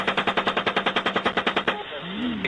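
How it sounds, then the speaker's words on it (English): Rapid automatic gunfire from US military helicopters over Baghdad, a fast even burst of about twenty loud shots that cuts off, leaving rotor drone and a faint radio-like tone. "showing United States helicopters firing on a group in Baghdad"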